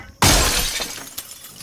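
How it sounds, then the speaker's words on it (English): Car window glass smashed in the video game Project Zomboid: a single loud, sharp crash followed by a shower of tinkling shards that fades over about a second, with a smaller clink near the end. "I'm just going to smash the window."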